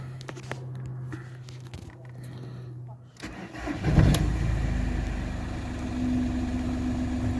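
Audi A2 engine cranks and catches with a loud burst near the midpoint, then settles into a steady low idle, preceded by quiet rustling and a low hum.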